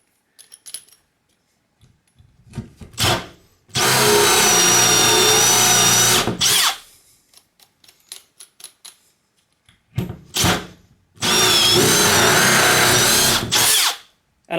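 A Bosch hole saw cuts through wood in two loud, close bursts of steady high-pitched drilling, each lasting a few seconds. Short pauses between them carry clicks and knocks as sawdust is cleared.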